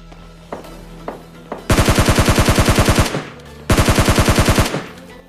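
Two loud, close bursts of rapid automatic gunfire from a PUBG Mobile Lite match, each lasting about a second and a half with evenly spaced shots, separated by a short pause and preceded by a few faint single clicks.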